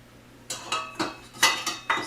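Spatula scraping down a mixing bowl while making gluten-free oatmeal chocolate chip cookie dough, six short clattering scrapes and knocks against the bowl in an uneven rhythm, close and fairly quiet.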